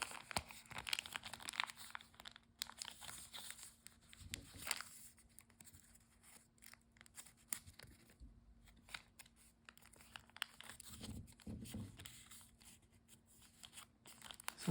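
Quiet paper crinkling and creasing continues throughout as a sheet is folded in half while shaping an origami mouse, with soft rustles and occasional sharper crackles close by.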